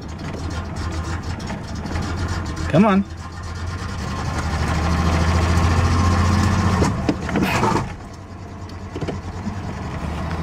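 A 1993 Ford Ranger engine runs rough with a steady low rumble and heavy vibration throughout, fairly loud and close, while a person speaks briefly over it.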